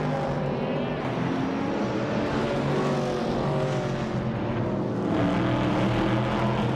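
Race car engines roar continuously in a racing video game, including a 1979 Chevrolet Monza GTX, a dense, steady mechanical drone with shifting pitch and a louder surge near the end.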